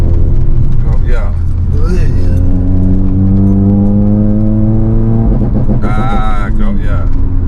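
A Honda Civic FN2 Type R engine revs against a rev-limited ECU map, rising to a held drone that plateaus at the limiter, loud and close, with voices talking over it.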